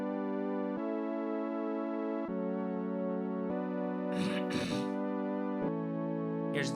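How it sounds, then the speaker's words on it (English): Sustained synth pad from the pre-chorus of a song production, playing long harmonic chords that change every second or so, with a few brief noisy bursts near the end. "Next up is this pad"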